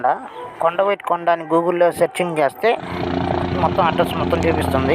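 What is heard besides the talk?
tourist helicopter flying overhead at Kondaveedu fest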